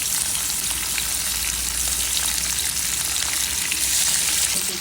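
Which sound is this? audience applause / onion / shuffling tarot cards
onion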